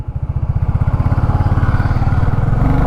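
A 2024 Royal Enfield Bullet 350 pulls away in first gear, its single-cylinder engine thumping in a rapid, even beat that quickens and grows louder close by.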